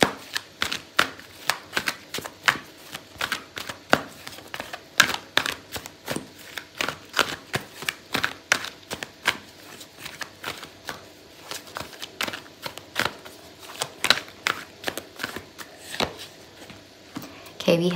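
Tarot cards being shuffled by hand for a reading, giving a steady run of quick, crisp riffling clicks close up that continues evenly for the whole stretch.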